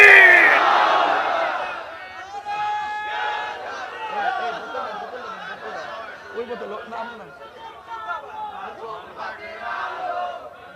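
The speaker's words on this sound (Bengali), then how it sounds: "হাত তুলে নারে তাকবীর" A large crowd at an Islamic religious sermon gathering roars a takbir chant in unison, loudest at the start and then settling into a sustained murmur of many voices.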